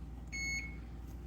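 A single short electronic beep tone sounds once, clear and fairly quiet, over a low steady hum.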